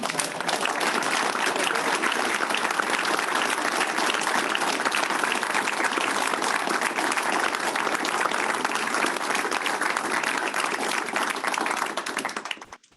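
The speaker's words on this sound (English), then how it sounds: "I suggest we give her a round of applause." An award-ceremony audience applauds steadily and loudly for about twelve seconds, a dense wash of many hands clapping together before it tapers off abruptly at the end.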